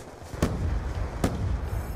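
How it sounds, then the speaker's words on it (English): A grenade blows up in an online shooter game, two sharp broadband blasts about a second apart over a steady low rumble of gameplay noise, fairly loud and close with no talking. "Throwing grenade."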